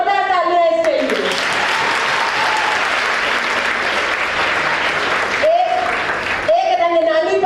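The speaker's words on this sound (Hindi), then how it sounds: "जोरदार तालियां इसके लिए" Loud, sustained applause from a crowd for several seconds, with a voice speaking just before and after it.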